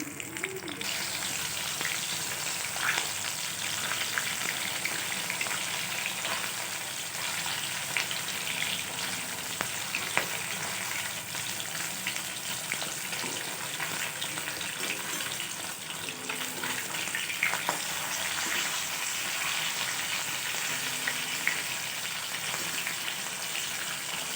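Fish fries in a pan with a steady, even hiss and sizzle that runs without a break, moderately quiet, with faint clinks now and then and no talking.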